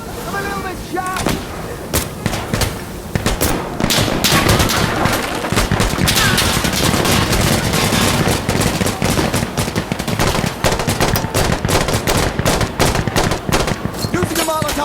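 Dense, rapid gunfire from automatic rifles such as the AKM fills a hardcore co-op checkpoint match in Insurgency Sandstorm, with bursts overlapping almost continuously and loud throughout while voices shout beneath the shooting.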